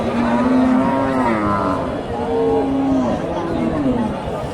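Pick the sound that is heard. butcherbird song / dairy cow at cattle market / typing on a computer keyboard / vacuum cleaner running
dairy cow at cattle market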